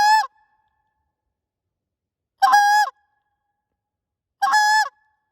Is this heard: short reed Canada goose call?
yes